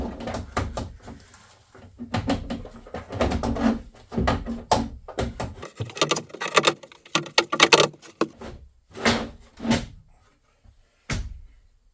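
A wooden cabinet is slid into place around a fridge inside a converted school bus, with a series of loud knocks, scrapes and bumps coming in bursts with short pauses between.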